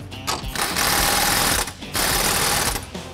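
A power tool drives the lower shock bolt on a Can-Am Maverick X3 during a wheel bearing job, whirring loudly in two sustained bursts separated by a short pause, with a brief spin-up at the start.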